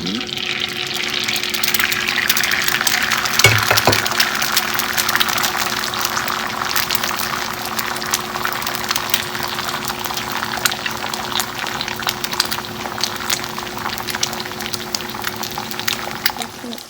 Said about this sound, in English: you heat up your pan and then you put one tablespoon of oil and then add your 4 eggs